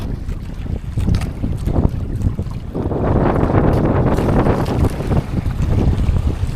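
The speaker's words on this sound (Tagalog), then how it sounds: "Lumakas yung hangin." Strong wind buffets loudly over open water at night, gusting and roaring with splashing waves and fishing boat noise, no talking.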